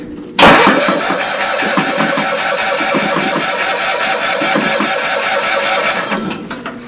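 An old Cushman engine cranks loudly and steadily on a cold start attempt, a continuous mechanical churning for several seconds without catching.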